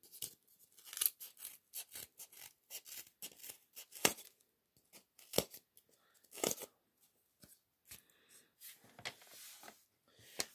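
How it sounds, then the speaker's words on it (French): Scissors snip through paper in a series of short, irregular cuts, close up, with brief pauses between strokes. "On va prendre des bandes de papier. Et on va découper."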